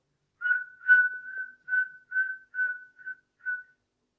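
A person whistles a series of short, evenly spaced high chirps, about eight in a row, imitating crickets at night; soft and close, with no talking.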